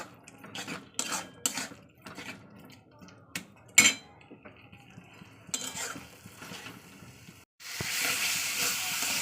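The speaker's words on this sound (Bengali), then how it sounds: "মশলার সঙ্গে আলু পটল সব ভালোভাবে কষে নেব" Potatoes and pointed gourd being sautéed with spices in a pan for a katla fish curry, with spatula scrapes and clatter against the pan over a low sizzle, then a steady louder hiss of frying near the end.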